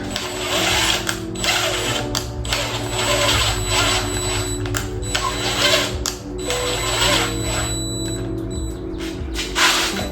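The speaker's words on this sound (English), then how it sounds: "I'm gonna get my gun that has multiple bits and then insert the bit, thread it a little bit, and then rewind" A power driver spins a bit through the threads of an engine cylinder head for a K24/K20 swap, a steady whirring interrupted by repeated short bursts and clicks, close and continuous.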